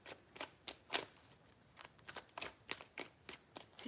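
A deck of tarot cards is shuffled close up in quick, rhythmic riffles, about a dozen crisp flicks spaced through the clip, quiet and alone.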